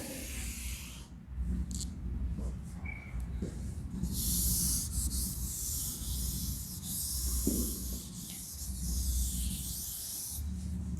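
Marker or chalk scraping across a classroom board during a chemistry lesson on carbon compounds and alkanes, a steady rubbing scratch that runs in bursts over a constant low background hum.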